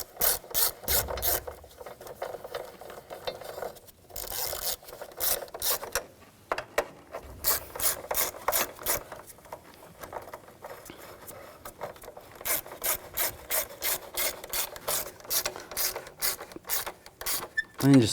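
Rapid ratcheting clicks from a hand ratchet tightening the nuts on a 2011-2019 Ford Explorer transmission mount, coming in repeated close bursts of strokes with short pauses between them.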